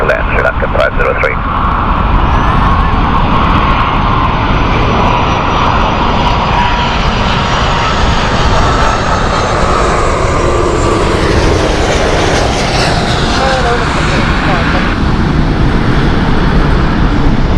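A SriLankan Airlines airliner, flight 503, lands at Heathrow with a loud, sustained engine roar that swells and shifts in pitch over many seconds as it passes, a voice talking over it.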